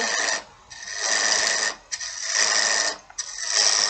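Wood lathe peel cut made with a flat turning tool on a spinning wood blank, giving loud bursts of rasping, scraping shavings in three long passes separated by brief quieter pauses.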